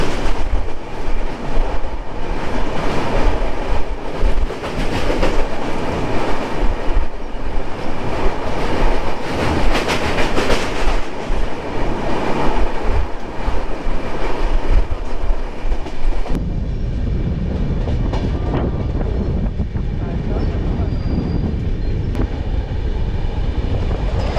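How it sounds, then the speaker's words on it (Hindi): Coromandel Express sleeper coach running after departing Vijayawada Junction, with a loud continuous rumble and rattle of wheels and carriage; the noise steps down to a quieter steady drone partway through. "डिपर्चर हो गया विजयवाड़ा जंक्शन से और हम लोग का कोच स्लीपर वाला"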